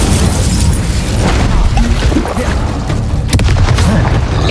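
An Incendio fire spell in Hogwarts Legacy bursts with a loud, close whooshing boom, a dense rush of flame sustained for several seconds before a sharper crackling flare near the end.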